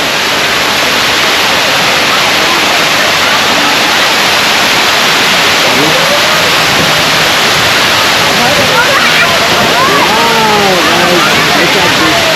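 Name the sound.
waterfall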